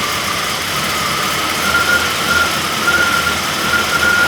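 A car engine idles steadily with a pumped-up valve lifter, giving a constant mechanical drone with a faint high whine that comes and goes, close and alone with no voices.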